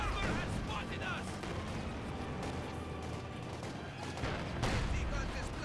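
Tank and anti-tank gun fire in Company of Heroes 2, heavy booming blasts and rumbling battle noise filling the scene, with soldiers' voices shouting over the combat.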